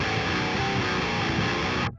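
An electric guitar played through a Kemper 5150 amp profile gives a dense, loud, distorted sustained tone that cuts off abruptly near the end, with no voices.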